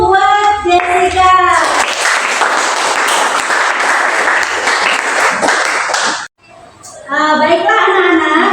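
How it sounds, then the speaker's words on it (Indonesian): A classroom of students applauds a student, steady clapping that lasts several seconds and cuts off abruptly, with a voice speaking before and after it. "aplaus dulu buat Jessica"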